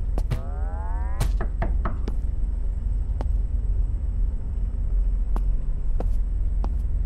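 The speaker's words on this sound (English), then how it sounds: "Knock on mom's door." Knocks on a door in the horror video game Tattletail sound as a short cluster of sharp raps near the start, followed by scattered single knocks over a low steady room rumble.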